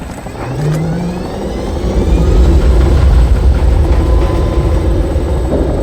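A vertibird aircraft in the video game Fallout 3 roars with a loud, steady engine drone and whining rotor tones, building slightly and holding throughout with no speech.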